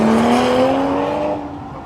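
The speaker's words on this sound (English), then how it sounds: "Love to watch these cars spin out." Tires squeal in a long, loud screech as a car spins out at a Power Tour event, the pitch sliding slowly downward before fading away, with no voices over it.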